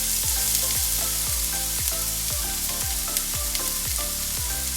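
Food fries in hot olive oil in a pan, a continuous bright sizzle layered with a quick regular pattern of stirring or scraping clicks, close and steady throughout, with no one speaking.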